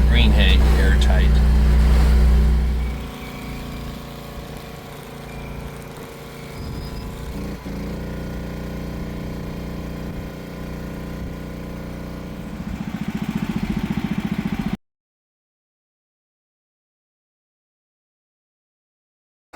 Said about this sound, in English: Finishing up wrapping, it's wrapping the plug on the end.